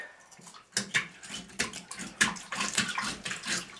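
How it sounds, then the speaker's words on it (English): A fish scaled underwater with a fork, rhythmic swishing and splashing of water in a basin, repeated strokes close and fairly loud. "I scale my fish underwater with a fork."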